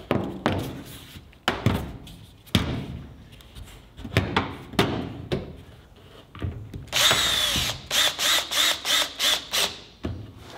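A power drill widens the openings in the rings of a sandblasting cabinet, with rough bursts of grinding and thunking at first, then a close, loud series of short, regular high-pitched drill pulses toward the end.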